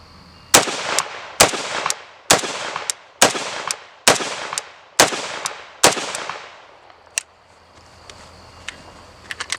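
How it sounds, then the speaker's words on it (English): A Romanian Draco AK-47 pistol firing rapidly, eight loud, sharp reports at a steady rhythm of about one per second, each with a short echoing tail, then a few faint clicks afterward. "Gen 1 Draco under rapid fire."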